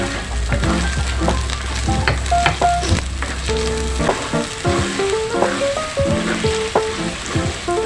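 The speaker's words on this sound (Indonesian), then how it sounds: "kita tumis ya teman-teman" Cinnamon bark and red chili sautéing in hot oil for a Padang-style jackfruit gulai, a steady loud sizzle with occasional clinks and stirring, with no voice.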